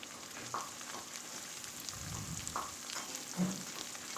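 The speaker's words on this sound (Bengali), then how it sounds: "বাঁধাকপিটা দিয়ে এবার ভালো করে একটু পেঁয়াজের সঙ্গে মিশিয়ে নেব" Shredded cabbage with onion and chilli is stirred in a hot pan for chowmein, giving a low, steady sizzle broken by soft scrapes of the spatula; no one speaks.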